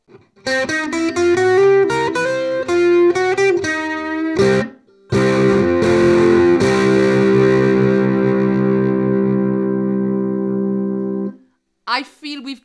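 A distorted Fanner electric ukulele plays a quick run of notes, then a long ringing chord through a gritty Hughes & Kettner Spirit of Vintage Nano amp head, close and loud.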